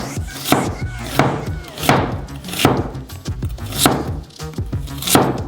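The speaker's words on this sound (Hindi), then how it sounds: "प्याज के बचे आधे हिस्से को छल्ले में काटेंगे" A knife chops through the remaining half of an onion, slicing it into rings for hot dogs: a steady series of sharp, close thuds on a cutting board, roughly one per half second, with no talking.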